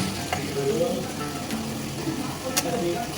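Onion and chopped tomato frying in a pan for Bengali-style chicken kosha, a steady soft sizzle with faint stirring scrapes, close and continuous beneath a speaking voice.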